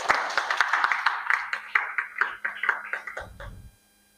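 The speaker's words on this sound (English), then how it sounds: "Please give her a round of applause." A room full of people clapping for the head judge at a school debate competition final, a dense patter of hands that fades away near the end, followed by a low thump.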